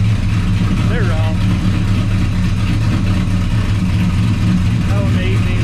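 A Chevrolet C10 squarebody with Holley Terminator X fuel injection idles steadily after a cold start, a loud, even engine drone with a throbbing low hum that continues without a break.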